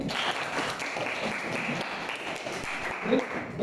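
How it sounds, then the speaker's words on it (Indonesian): Students in a classroom applaud a classmate named Novi, producing a steady, fairly faint patter of many hands clapping that holds evenly throughout. "Oke, tepuk tangan buat Novi ya."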